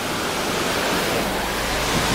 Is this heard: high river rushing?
yes